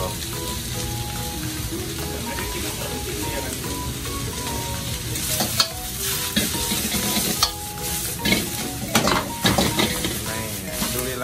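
Thai made-to-order street food is stir-fried in two woks at once by a cook abroad, a loud, continuous sizzle with scraping spatula strokes and metal clanks on the pans.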